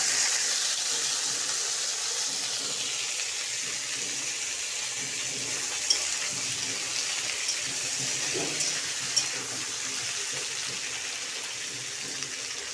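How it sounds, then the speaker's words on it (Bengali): Cut, steamed vegetables fry in a pan while a winter dal is being made, giving a steady, even sizzling hiss that holds at a constant level for the whole stretch with no talk. "সবজিগুলি একটু ভাজা করে নেবো"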